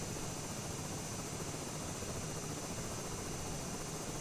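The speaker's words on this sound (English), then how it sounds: "It does sound a helicopter like when it's in feathered low idle mode." Simulated aircraft engine held at a feathered low idle in Microsoft Flight Simulator, giving a steady, even broadband drone with a low rumble and a helicopter-like whir, unchanging throughout with no talk.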